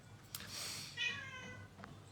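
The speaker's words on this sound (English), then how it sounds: "Sorry about my cat in the background." A house cat meows in the background, one drawn-out, moderately loud meow in the middle with a fainter short cry near the end over a quiet room.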